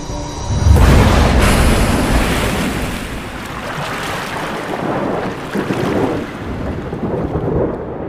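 A thunderstorm with heavy rain, used as a horror-story effect, opens with a deep thunder crack. A dense, roaring wash of rain and wind follows and keeps going loud and steady throughout.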